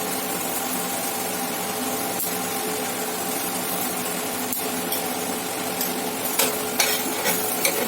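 A yeast-free wheat-flour kulcha cooks in a pan with ghee, giving a steady, soft sizzle throughout. A few light clicks and taps come near the end, with no talking.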